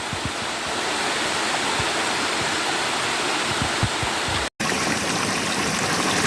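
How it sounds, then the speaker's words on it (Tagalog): A countryside waterfall pours into a bathing pool, a loud, dense, unbroken roar of falling water heard close with no voices. "Ito po yung busay na napaliguan namin"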